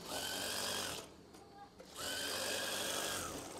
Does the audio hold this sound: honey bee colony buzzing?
no